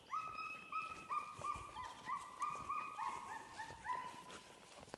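A tracking dog in training on a wounded-deer trail whimpers and whines repeatedly, high thin cries rising and falling in quick bursts, close and fairly loud over light background noise.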